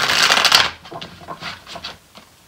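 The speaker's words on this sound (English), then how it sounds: "I'm going to shuffle one more time just to clarify." A quick burst of tarot cards being riffle-shuffled, followed by a few softer card taps and rustles.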